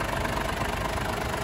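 A Ford Everest diesel engine idles with the hood open, a steady close rumble with a continuous mechanical chatter and no speech.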